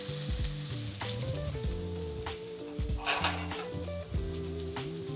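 Onions and red peppers fry in hot oil in a pan with a steady close sizzle, crackling pops and a few scraping stirs, with no voices over it.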